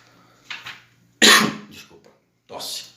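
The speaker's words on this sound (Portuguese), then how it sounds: "Desculpa, tosse." A single cough bursts out sharply in the middle of a lecture, with brief bits of a man's speech just before and after it.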